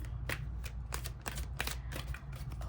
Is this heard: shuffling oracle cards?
yes